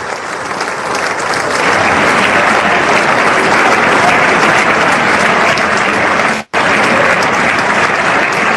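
Sustained, loud applause fills a large chamber at a State of the Union address, dense and continuous apart from a brief cut near the end.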